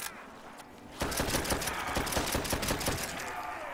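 Rapid automatic gunfire from Call of Duty: World at War's Nazi Zombies co-op mode on the Aztec map, starting abruptly after a second of quieter game ambience and continuing as a loud, dense burst of shots to the end.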